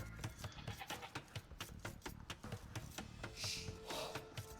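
Sheep and goats bleating in the video game Age of Empires II, repeated short animal calls in a rhythmic series over a busy game background, moderately loud.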